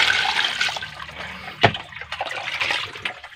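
Cold water splashes and trickles as grass jelly (cincau) leaves are rinsed, a steady near pour with one sharper splash midway.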